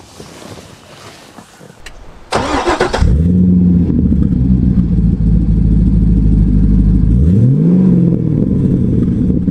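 A Chevrolet Corvette C6 with its 404 hp LS2 V8 cranks and fires with a sharp burst, then settles into a loud, close, throbbing idle, with a couple of blips that rise and fall.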